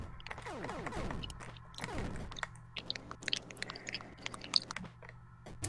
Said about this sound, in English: Yeah, we heard you chewing.